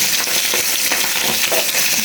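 Fish head frying in hot oil in a kadai, a loud, dense, continuous sizzle with crackling pops right up close.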